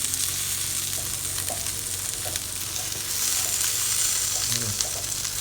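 Tofu sizzles steadily on a George Foreman grill, a dense bright frying hiss with small pops and faint tong clicks, close and continuous with no talking.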